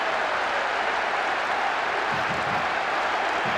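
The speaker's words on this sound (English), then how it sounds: "Even some of the opposing fans are clapping that." Steady broadband crowd applause fills a football stadium in the PES 2026 video game after a goal, a dense continuous roar of clapping with no clear pauses.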